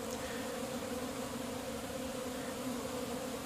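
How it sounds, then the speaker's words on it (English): Honeybees buzzing as they crowd out through a hive bee escape after a robbing episode, a dense steady drone of many insects, close and continuous, with no voices. "You can see there's a few bees coming out there."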